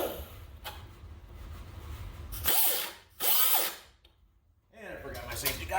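An angle grinder or similar power tool bites into old, rusty, crusty sheet metal on the wheelhouse of a 1967 Dodge Dart, in several loud, harsh bursts with short pauses between them.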